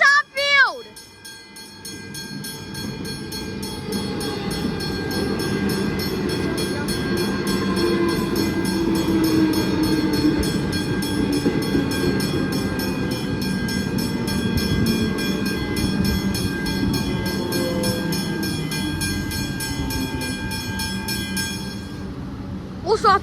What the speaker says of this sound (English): Oh look, there's another train! Yes, and it's an EDI Commons train.